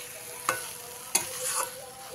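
Potatoes and eggplant, already boiled soft, are stirred in a pan for a Bengali bata fish curry, giving three brief scraping strokes over a faint low sizzle.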